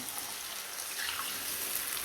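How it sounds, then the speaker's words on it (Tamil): Tamarind water poured into a fish curry masala, heard as a steady, soft watery splash and trickle that holds evenly throughout with no voices. "இந்த புளி தண்ணி மசாலாவை இதில் சேர்த்துருவோம்."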